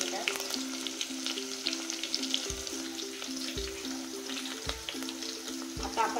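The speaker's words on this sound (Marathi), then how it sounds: "त्यात आता आपण कांदा टाकून घेऊया, थोडंसं तमालपत्र, लवंग आणि दालचिनी आणि काळी मिरी टाकून घेतात" Onion, bay leaf, cloves, cinnamon and black pepper sizzle in a pan for mutton dalcha, a steady close crackling fry with a few soft stirring knocks and no talk.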